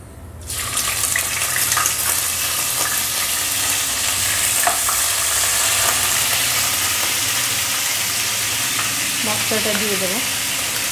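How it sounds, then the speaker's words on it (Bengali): Cabbage and prawns frying in a pan, a loud steady sizzle beginning abruptly and holding throughout, with occasional stirring scrapes and a short voice near the end. "এবার চিংড়ি মাছ দিয়ে বাঁধাকপিটা বসিয়ে দেব।"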